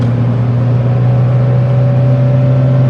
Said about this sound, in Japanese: じゃあ40キロから80まで加速します